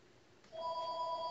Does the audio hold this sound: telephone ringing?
yes